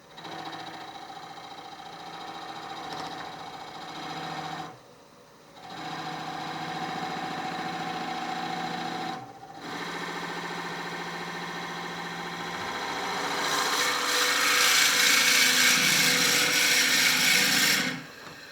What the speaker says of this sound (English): The speed I use now is not as fast as when I was turning. It's much slower for drilling.